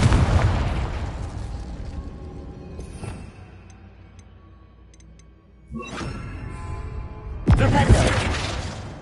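Confringo blasting spell going off in Hogwarts Legacy: a loud burst and rumble with a fading tail, a quieter middle stretch of faint ticks, then further sharp blasts.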